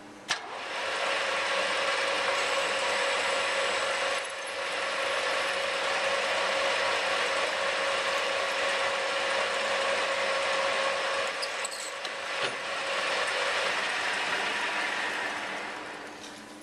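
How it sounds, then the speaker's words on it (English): A centre lathe drives a twist drill into a workpiece from the tailstock, giving a steady, loud mechanical whir with a sustained tonal hum and brief ratcheting changes, running alone for the whole stretch. "as I drive the twist drill in"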